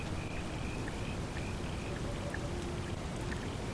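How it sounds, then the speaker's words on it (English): Steady wash of flowing water from the river Tiber in Italy in the game The Forgotten City, a continuous broadband rushing with faint scattered chirps over it and no talk. "This river is the Tiber."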